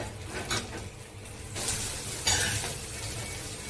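An egg pancake (anda poli) sizzles in a hot pan as it is turned over, with soft scraping and a couple of louder bursts of frying, quiet and close.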